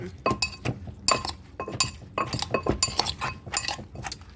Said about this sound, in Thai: เนี่ยก็โขกเลยค่ะ เมนูตำแตง